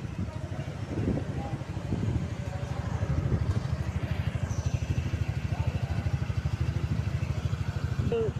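A brand-new motorcycle engine idles steadily close by in a fast, even putter that runs the whole time, with a few faint background sounds and no clear speech.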